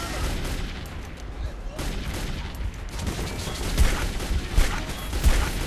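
Gunfire in the Metro 2033 video game, a dense rolling clatter of shots and impacts that gets louder toward the end, with faint talk beneath.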